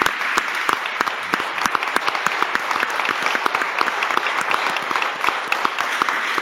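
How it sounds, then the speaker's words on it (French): Sustained applause from a live audience at a Bordeaux civic broadcast honouring the city's mayor, many hands clapping in a dense, even roar with sharp individual claps standing out, loud and close. "Applaudissements pour Pierre Urmic."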